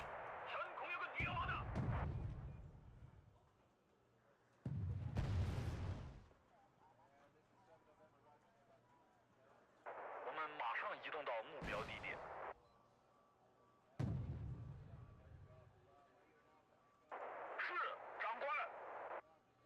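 Missile and artillery fire from the strategy video game Wargame: Red Dragon, heard as several separate booming blasts, each with a sharp onset and a fading rumble, spaced a few seconds apart with quieter gaps between them.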